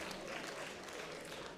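Audience applause for teams at a SwissEurobot 2017 robot competition round, a faint, distant, steady wash of clapping from a crowd with a murmur of voices underneath.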